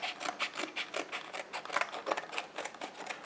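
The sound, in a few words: scissors cutting open SSD packaging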